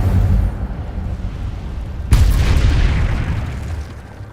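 Incendio fire spell cast in Hogwarts Legacy: a sudden loud whooshing burst of flame about halfway through, trailing off into a rumbling roar over low game background noise.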